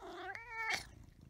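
A cat lets out a single close, drawn-out meow with a rising then falling pitch, asking for breakfast in a quiet room.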